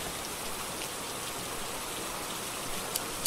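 Steady, even rainfall patters in the game Phasmophobia, a close, constant wash of drops with a couple of brief sharper taps near the end and no voices.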